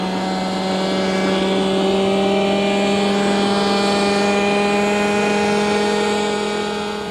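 Model airplanes flying at a model air park in Lancaster, giving a steady, loud high-pitched propeller engine drone with sustained tonal whine that holds throughout.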